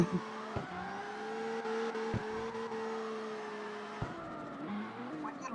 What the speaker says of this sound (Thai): ถ้าพอเปลี่ยนเกียร์ปุ๊บเสียงมันแบบมันเหมือนมันมีซุปเปอร์ชาร์ด